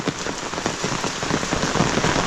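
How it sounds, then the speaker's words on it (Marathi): Heavy monsoon rain pours steadily in a Konkan village, a dense continuous hiss of drops drumming on surfaces, loud and close with no voices. "पावसाने जोर वाढवला आहे"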